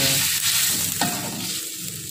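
Water splashed into a hot frying pan, a sharp burst of loud sizzling and bubbling hiss that settles into a steady crackle, close up with no talking.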